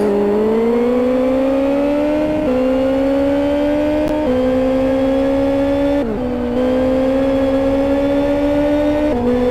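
A racing Mini at a Kent AutoPrix event roars loudly and continuously, its engine pitch climbing steadily and dropping at each gear change roughly every two seconds as it drives flat out along a straight.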